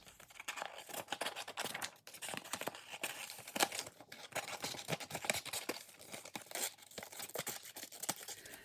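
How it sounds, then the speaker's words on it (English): Paper being cut out by hand with scissors while assembling an identity collage spread, a close, steady run of snipping, tearing and crinkling with no voice. "So I'm going to go ahead and cut that out."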